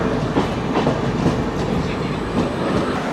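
The Gitanjali Express pulls into Kalyan Junction with a steady rumble and rhythmic clickety-clack of wheels over rail joints, heard from on board at moderate loudness.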